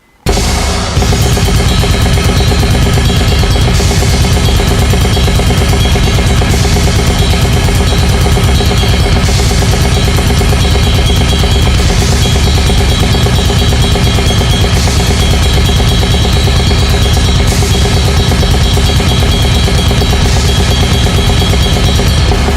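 A properly mixed heavy band recording plays loud and dense throughout, with drums, distorted guitar and a DI'd bass through the guitar amp chain.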